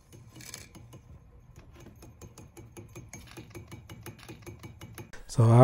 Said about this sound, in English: So I'm just gonna put the bolts on.